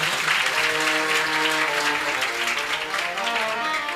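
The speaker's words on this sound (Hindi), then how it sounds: "एक बार जोरदार तालियों से आपका स्वागत करें।" Loud, sustained applause from a crowd at a Hindu religious discourse gathering, dense clapping filling the whole stretch with some voices mixed in.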